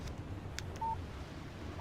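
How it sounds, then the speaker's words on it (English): A phone text message alert in the game Alan Wake gives one short electronic beep over a low background hum, alone and without talk. "Text message from Barry."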